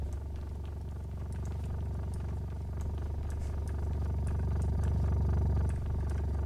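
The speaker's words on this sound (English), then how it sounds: "once you press that, then the thrusters are going" Hovercraft thrusters start up and keep running with a steady, close engine hum and a fast clattering pulse that swells a little toward the end.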